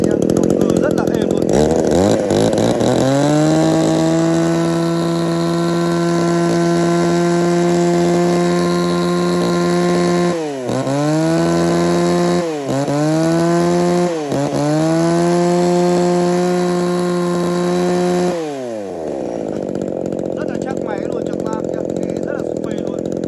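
A Tanaka PMS 305 chainsaw engine starts and runs close and loud at a steady buzzing pitch. It is revved in several quick throttle blips, then cuts off near the end.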